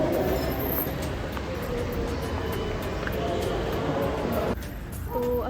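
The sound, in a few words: metro train at Mayur Vihar Pocket 1 station, Delhi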